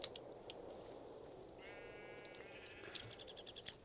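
Sheep bleating in the Minecraft Tekkit modded video game, a short wavering bleat in the middle with a few faint game clicks and blips around it, over a steady low background hum.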